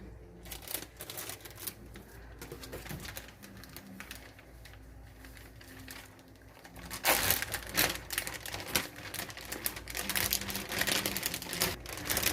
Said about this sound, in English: put it in a plastic bag just like so